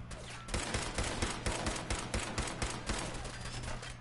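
Rapid bursts of automatic gunfire in the Rupert Zombies video game, a dense, loud, sustained volley of sharp shots that keeps going after a quiet opening, with no voices.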